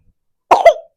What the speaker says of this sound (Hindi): भयंकर खांसी हो रही है इसको।